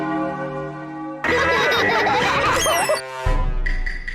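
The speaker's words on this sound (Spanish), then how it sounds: "Ese timbre en la puerta no estaba al inicio del episodio." A cartoon doorbell rings in a Peppa Pig episode, a bright chiming tone among busy cartoon sound effects and giggling character voices, fairly loud and close.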